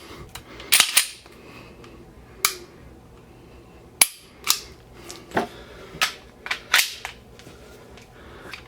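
Taurus PT111 G2 9mm pistol trigger, a series of sharp, close mechanical clicks and snaps, some paired, irregularly spaced over several seconds against a quiet background, with no talking.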